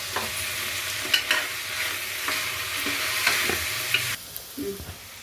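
Coriander powder gets stirred into tomatoes frying in a pan for an aloo peas kurma, a steady sizzle under scraping spoon strokes and a few clinks against the pan, close and without talk.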